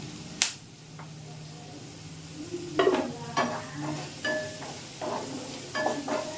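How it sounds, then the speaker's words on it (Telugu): Onions with turmeric sizzle softly in a pan while a utensil stirs and scrapes with occasional clinks. "ఉల్లిపాయలు లైట్గా వేగుతున్నాయి కదా"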